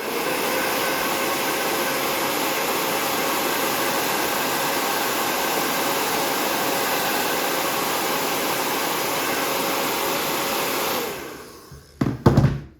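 A heat gun blows a loud, steady whir of hot air onto a Glock pistol grip being stippled, holding even for about eleven seconds before switching off, followed by a few brief handling knocks.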